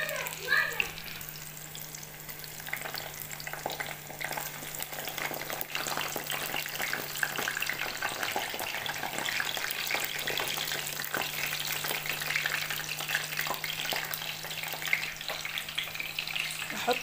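Eggplant with minced meat and onions frying in a pan gives a steady, dense sizzle that carries evenly throughout at close range, with no voices.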